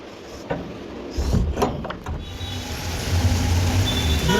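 A car drives through monsoon rain on a rough road, its broadband hiss and engine rumble steady and close, with a few sharp knocks and bumps early on and a low droning hum building toward the end.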